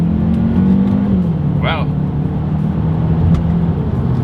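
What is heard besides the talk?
Hyundai Elantra N Line accelerating, paddle shifter test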